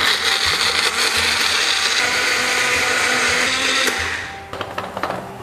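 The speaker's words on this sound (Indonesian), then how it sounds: "Kasih air. Dan kita akan blender super halus." A blender grinds a cooked spice paste with added water for an Indonesian ayam pesmol dish, a loud steady whirring roar for about four seconds before it is switched off and winds down, followed by a few faint clatters.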